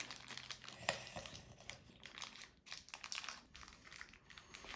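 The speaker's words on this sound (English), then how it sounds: "let's use my trusty scissors again to cut this bag open" Scissors snip and crinkle through a small plastic blind bag holding a Lost Kitties Mice Mania Series 3 toy, a run of close, dry rustling cuts with a sharper snip near the start.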